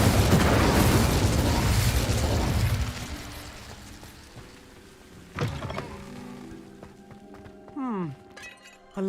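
Incendio fire spell cast in Hogwarts Legacy: a loud crackling, shattering burst of flame up front that decays into quieter magical whooshes, chimes and rising tones, with a few sharp hits near the end.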